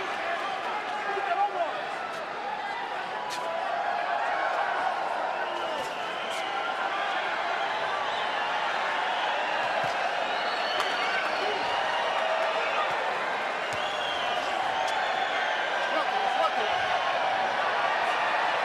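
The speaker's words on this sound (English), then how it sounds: "And the crowd very much into this fight" A boxing arena crowd at the MGM roars and murmurs steadily through a fight, a broad, far-off wash of cheering that holds throughout while commentators talk over it.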